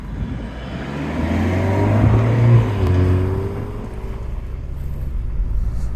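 A 2025 BMW 230i coupe producing 241 PS drives along, its engine hum steady and close with some wind rush, the tone swelling slightly in the middle of the run before settling.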